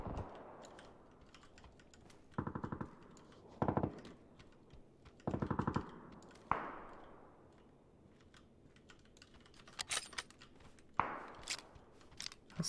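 Gunfire in the battle royale game PUBG on the snowy Vikendi map: several short rapid bursts of automatic fire, fairly faint and distant, alongside clicking keyboard and mouse sounds.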